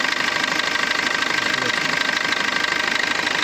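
A 2018 Maruti Suzuki Swift Dzire engine idles smoothly close by, giving a steady, even hum with no knocks or surges across the whole stretch.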